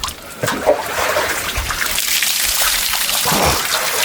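Water from a home water tank splashes and pours steadily as someone bathes outdoors among trees, a continuous close splattering with a few louder dumps.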